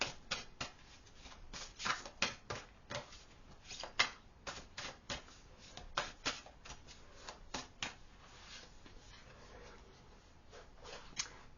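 Oracle cards from a Hidden Worlds deck are shuffled by hand, giving a run of crisp, close flicking and slapping bursts at an uneven rhythm, with no talking.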